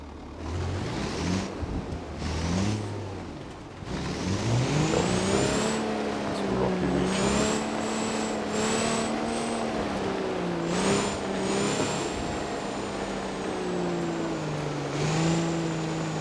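Autobello Stambecco driving off-road in BeamNG.drive, the engine rising and falling through gear changes with whining revs and rumbling over rough ground, while someone talks over it.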